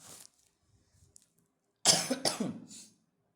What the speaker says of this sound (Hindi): यार खांसी से तो बहुत परेशान है